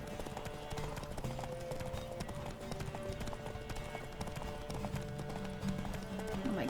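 Horse hooves clip-clop at a steady gallop through a horse race in The Witcher 3, with game music and ambience underneath and a voice now and then.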